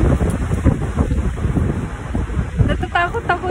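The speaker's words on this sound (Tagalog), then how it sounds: "Ayan o, parang umiikot yung hangin." Strong swirling wind in Norway buffets the microphone in heavy, rumbling gusts, with a voice speaking briefly in Tagalog toward the end.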